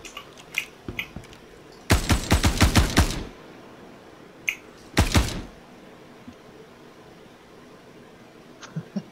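Two close bursts of rapid automatic gunfire in the space game Star Citizen, the first volley lasting over a second and the second shorter, separated by a few faint clicks and clatters in an otherwise quiet scene.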